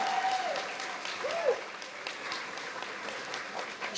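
Audience applause at an elementary school grand opening ceremony, a steady wash of many hands clapping at moderate volume, with a brief tonal squeal passing over it early on.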